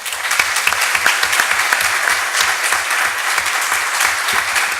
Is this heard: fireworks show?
no